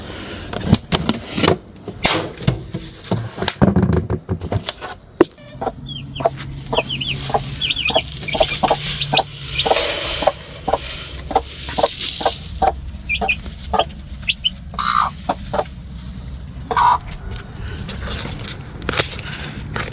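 A rooster and chickens cluck and chatter continuously, with scattered sharp pecking and scratching noises close by in a busy coop.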